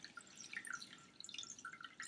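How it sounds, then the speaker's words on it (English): Blue water poured into a glass dish, a light splashing trickle with scattered droplet sounds running steadily throughout, fairly quiet and close. "I'll put the blue water into the glass dish"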